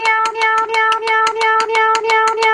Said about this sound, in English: Jeffy, I said no cat piano.